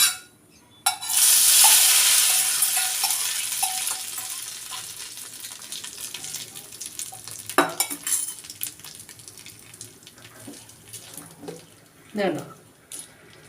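Loud sizzling erupts as mustard seeds and curry leaves hit hot oil, then crackles and fades, with scattered spoon scrapes and clinks against a pan; a voice speaks briefly.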